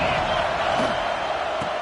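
A football stadium crowd roars steadily behind the defense on a big third down, a dense, sustained cheer with scattered whoops, mixed with a commentator's voice.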